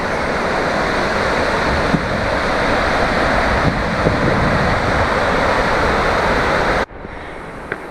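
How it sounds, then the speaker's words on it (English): A mountain creek's rushing cascades and waterfalls roar steadily and loud close by in Montana's Absaroka Beartooth Mountains, then abruptly drop to a quieter flow near the end. "A lot of cascades, falls."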